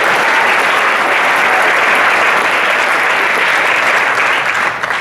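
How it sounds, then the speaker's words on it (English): An audience at a high school band pops concert applauds, a loud, dense, sustained clapping that fills the hall for several seconds before tapering at the end. "Big round of applause"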